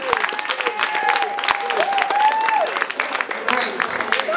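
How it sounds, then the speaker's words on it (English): An audience at a live event claps in a dense burst that continues steadily throughout, with voices and tonal cheering carrying over the clapping. "So can I hear real claps?"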